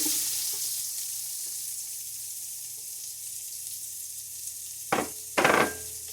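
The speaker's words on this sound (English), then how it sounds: "I'm going to add the onion." Onion tipped into a hot pot after searing beef, a broad hissing sizzle that settles into a quieter fry, broken near the end by two short bursts of louder crackle.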